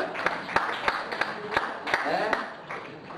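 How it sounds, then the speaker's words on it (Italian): A small audience gives a few scattered, sharp hand claps, spaced irregularly over a couple of seconds, with a voice talking over them. "Un applauso per il Juncus e Fusus."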